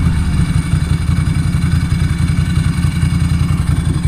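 Ducati 900SS engine idling with a loose dry-clutch rattle, a steady low throbbing pulse with a fast clattering texture, close and loud throughout with no talking.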